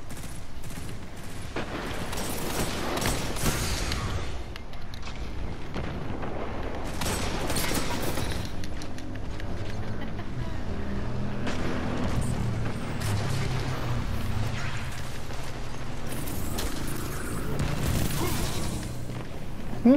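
Gunfire and explosions in the Destiny 2 video game crackle and boom through continuous combat, with repeated bursts of shots and heavy blasts at moderate loudness and no clear talk.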